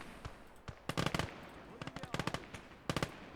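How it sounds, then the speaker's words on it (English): A machine gun fires in the World War II game Call To Arms: Gates Of Hell, sending out rapid bursts of crackling shots in quick clusters that are moderately loud over a busy battlefield background. "You have a machine gun, so you don't need a rifle anymore."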